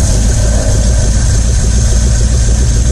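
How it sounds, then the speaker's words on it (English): A 1950 Ford flathead V8 with a manual transmission, restarted after years of sitting, idles with the choke partly closed: a steady, close, loud rumble with an even low-end pulse and no voices over it. "There's nothing that quite sounds like a flathead Ford."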